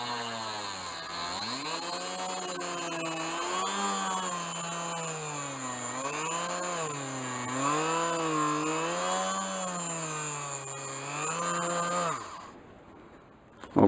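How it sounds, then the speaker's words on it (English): A power drill turns a 3 mm Forstner bit freehand through the end grain of a wooden whirligig lure body, boring a center hole. A close, steady whine rises and dips with the load for about twelve seconds, then stops abruptly. "A 3 mil Forstner bit to drill the center hole free-handed."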